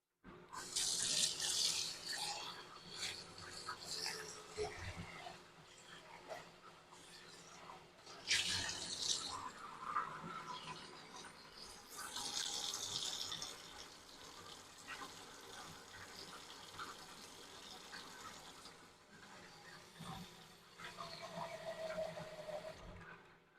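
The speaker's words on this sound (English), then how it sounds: "now I'm going to rinse this out" Tap water runs into a kitchen sink to rinse out a container, coming in several gushing bursts with splashing and quieter trickling gaps, close by.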